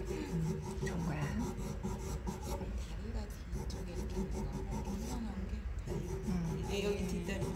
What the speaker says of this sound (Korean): 사각사각 소리가 너무 좋죠